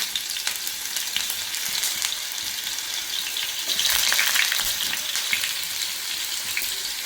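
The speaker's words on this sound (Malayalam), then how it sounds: "ചൂടായിട്ടുണ്ട് നമുക്കിനിയും പനീർ വറുത്തെടുക്കാം" Continuous crackling sizzle of paneer frying in oil, steady and close, with small pops throughout and no voices.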